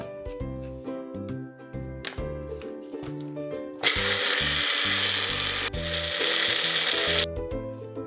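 A mixer grinder blitzes garlic and red chili into a paste in a loud, steady grinding roar lasting about three and a half seconds, set against tonal background music.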